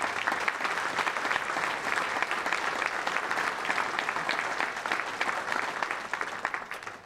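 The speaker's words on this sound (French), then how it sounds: "merci de les remercier en les applaudissant" An audience at a municipal New Year's greetings ceremony in Le Cannet applauds, dense sustained clapping filling the hall evenly from start to finish and tapering slightly at the close.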